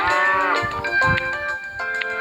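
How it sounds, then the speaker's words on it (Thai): Cows mooing on a farm in a video game, a loud close drawn-out moo followed by shorter overlapping lowing calls. "นี่คือฟาร์มวัวนะคะ"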